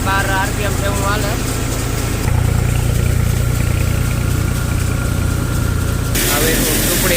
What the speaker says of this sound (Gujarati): ને ટ્રેક્ટર હાવ લોડ ફ્રી હાલે. તમે એનો સૂર ને એનો અવાજને સાંભળી લ્યો